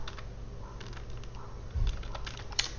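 Computer keyboard typing in a quiet room, a run of light, irregular key clicks over a low steady hum, with one sharper tap near the end.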